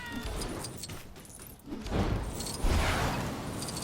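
A cat meows and yowls in LEGO Marvel's Avengers, heard over background game music and ambience for several seconds, with a louder drawn-out cry near the end.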